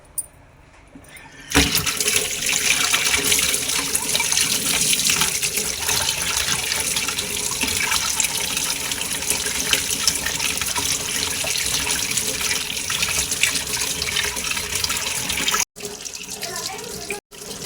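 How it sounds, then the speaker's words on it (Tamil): Tap water runs steadily and loudly over a cleaned crab in a kitchen sink, a continuous broadband splash that starts abruptly after a quiet moment and cuts off near the end, with no one talking. "இதை வந்து ரன்னிங் வாட்டரில் வந்து வாஷ் பண்ணிக்கலாம்."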